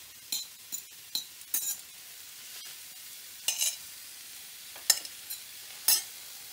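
Pork neck goes into hot oil in a pan: a quiet, faint sizzle broken by several sharp clinks and scraping stirs at irregular intervals, with no talking.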